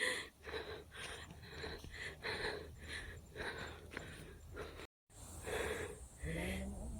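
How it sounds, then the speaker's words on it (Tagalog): Heavy, rhythmic panting from someone out of breath while hiking uphill, with quick repeated gasping breaths close to the microphone and a brief cut partway through before the breathing resumes. "Hinihingal ako."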